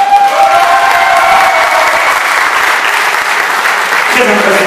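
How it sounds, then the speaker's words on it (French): Loud, sustained applause and cheering from a concert audience, a dense wall of clapping heard up close with a sustained musical tone fading beneath it. "Je voudrais qu'on applaudisse très fort le pupitre."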